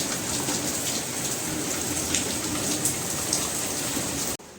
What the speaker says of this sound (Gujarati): વરસાદ પણ અમારે અહીંયા ચાલુ છે.